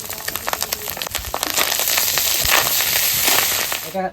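Fish roe dropped into hot oil with onion and chilli in a pan, a loud close crackling sizzle that swells after about a second and stays dense and steady, with no speech.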